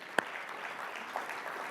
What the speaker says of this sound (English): JA, please give them a round of applause.